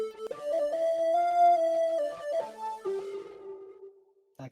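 A lower synth layer sent through reverb plays a sustained tonal line that shifts pitch a few times, then fades into a reverberant tail before a brief sound returns at the end.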